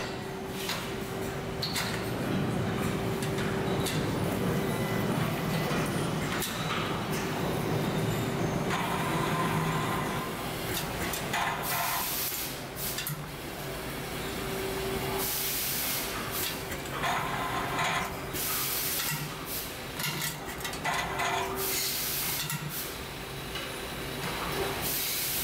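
A Holland Mechanics machine tensioning bicycle wheel spokes gives off continuous mechanical whirring with hissing bursts and clunks, dense factory noise that stays steady throughout, with no talking.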